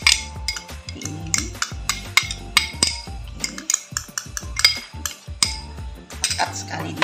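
A utensil clinks and scrapes against a bowl while stirring coffee liquid and mocha paste into a meringue and butter mixture, with irregular close, bright taps and knocks and no talking.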